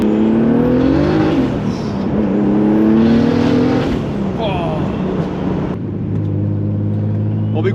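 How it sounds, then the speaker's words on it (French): A BMW E36 with a turbo engine and twin-disc clutch runs loudly up close, a steady droning engine note that rises and falls with revs, with a voice talking over it. "On va écouter l'embrayage."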